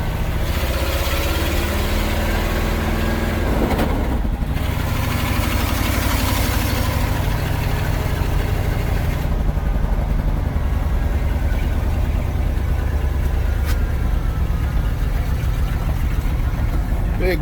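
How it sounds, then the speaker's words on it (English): A 1974 Ford F100 pickup truck engine idles steadily up close, a continuous low rumble throughout, with voices talking over it at times. "This thing actually idles and runs really nice."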